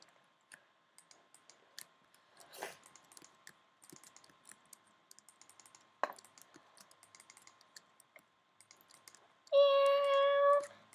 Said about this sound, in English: that was just my cat.